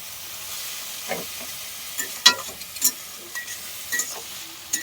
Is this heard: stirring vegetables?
yes